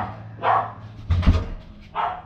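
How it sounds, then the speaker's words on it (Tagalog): A dog barks in two short bursts with a scuffle of louder noise between them, fairly close and moderately loud, while no one is talking. "May aso."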